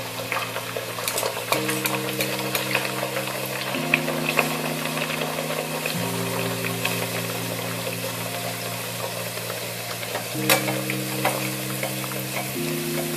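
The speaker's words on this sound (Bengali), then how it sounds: "কড়াইয়ে আমি তেল গরম করতে দিয়েছি, তেলটা গরম হয়েও গেছে। এবার আমি কচুরিটা আস্তে আস্তে ছেড়ে দিলাম।" Green pea kochuri slid into hot oil in a wok, bubbling and sizzling steadily with crackles and occasional clinks, under a droning background hum that shifts in pitch several times.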